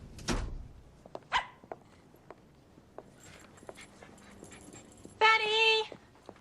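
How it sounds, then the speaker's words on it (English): A dog barks and whimpers in short, sharp bursts, with a louder, drawn-out yelping cry near the end, amid light room sounds and brief spoken voices. "Did somebody lose a dog?"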